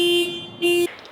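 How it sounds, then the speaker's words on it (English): A car alarm triggered by a key fob panic button at a boondocking campsite gives two loud, close electronic horn blasts, the second shorter and cut off abruptly. "you can push this panic button if you realize somebody is out in your campsite"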